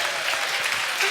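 Applause from an evening audience at a live show, steady dense clapping filling the whole moment, close and fairly loud with no voices over it.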